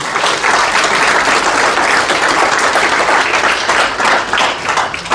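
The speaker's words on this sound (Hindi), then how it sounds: "एक बार प्रताप सर के लिए जोरदार तालियां हो जाए" An audience at a training event bursts into loud, sustained applause, a dense wash of many hands clapping close by with no pause.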